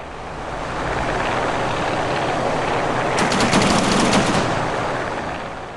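Fighter plane machine guns fire in a rapid burst over a steady roaring aircraft engine in the video game Wings of Duty, loud and close, with no talking.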